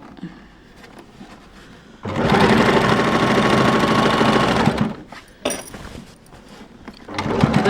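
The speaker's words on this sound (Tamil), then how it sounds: "கொஞ்சம் திக்கான இடம் வரும்போது பார்த்து நிறுத்தி ஸ்லோவாக தான் அடிக்கணும்" A sewing machine runs steadily for about three seconds while stitching slowly through a thick seam in elastic-waisted children's underwear fabric. The motor hum is loud and close, with quieter handling noises before and after.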